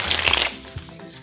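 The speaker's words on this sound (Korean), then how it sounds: "왼손에 받은 카드가 이렇게 바닥으로 떨어지겠죠" Playing cards spring from one hand in a rapid flurry of riffling flicks, then a few scattered soft slaps as cards drop to the floor, close and fairly loud.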